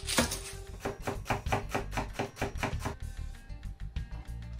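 A knife dices raw, peeled beetroot on a cutting board in quick, even chops, a close and crisp run of about twenty strikes that slows near the end.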